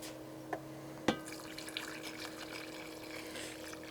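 Pepper-boiling liquid poured into a pot of birria gives a soft, steady splash and trickle, with a couple of sharp knocks near the start. The sound is quiet and close.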